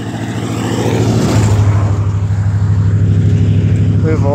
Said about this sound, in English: we have a lot of traffic on this morning